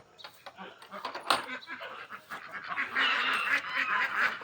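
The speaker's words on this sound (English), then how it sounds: "This is the duck section over here." Ducks and geese at Denninger's Chicken Farm in Bethel, Connecticut honk and quack in a dense, overlapping chorus, with calls building toward the end over a busy outdoor din.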